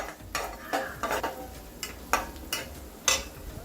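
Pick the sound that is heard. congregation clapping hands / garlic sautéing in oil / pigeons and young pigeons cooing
garlic sautéing in oil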